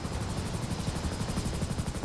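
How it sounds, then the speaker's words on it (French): A coast guard helicopter in the video game GTA 5 thuds steadily with rapid, rhythmic rotor chops, close and loud, with a constant whining engine hum beneath. "Ici hélicoptère des gardes-côtes."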